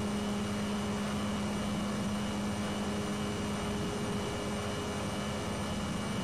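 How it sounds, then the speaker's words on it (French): Engine noise from a car in a racing video game: a steady, unbroken mechanical drone with a fixed hum, even in level throughout and heard alone. "On entend que le bruit du moteur."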